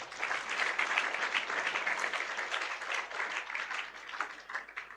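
Schoolgirls and audience at a school event in Bilaspur break into sustained clapping, a dense even patter of many hands in a hall, moderately loud and continuous across the whole stretch.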